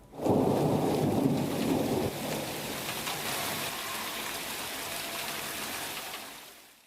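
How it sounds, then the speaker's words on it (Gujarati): Heavy monsoon rain pours down steadily in Valsad, Gujarat, with a loud rumble of thunder at the start that fades into a dense, continuous hiss of rainfall. "મેઘરાજાની તોફાની બેટિંગ યથાવત છે"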